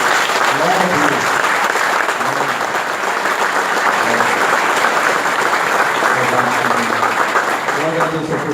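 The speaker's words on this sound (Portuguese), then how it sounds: "Vamos dar uma salva de palmas para Jesus" Church audience at a men's dinner giving a round of applause, steady crowd clapping lasting several seconds, with a voice speaking over it at intervals.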